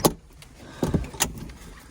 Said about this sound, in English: Now let's pop the T-tops off